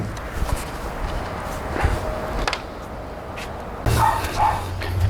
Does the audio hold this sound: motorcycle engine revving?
no